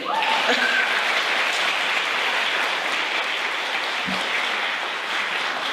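A crowd gathered for a Muslim Community Day at the Tennessee Capitol in Nashville claps in a sustained, even roar of applause that holds steady from start to finish.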